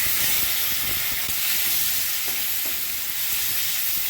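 Onions hit hot oil already seasoned with dried chillies, bay leaf, garam masala and cumin, giving a loud, dense, continuous sizzle with faint stirring clicks in a home kitchen.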